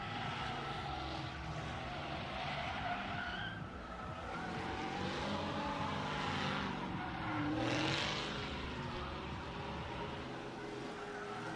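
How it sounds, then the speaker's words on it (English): Drift cars at the Big Indian Drift Pit roar and skid in a continuous dense wash of engine noise and tire squeal, steady and loud throughout with a brief swell near the end, no talking. "Somehow Lenny's drifting."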